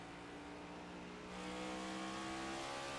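Race cars in a stock-car sim racing game at Gateway roar with steady engine drone, the tires sliding in a four-wheel slide through a corner, the sound swelling louder midway.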